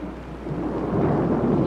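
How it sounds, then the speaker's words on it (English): Low rolling thunder from a thunderstorm rumbles and swells over steady rain, loud and close, with no voices. "Well, it's only thunder,"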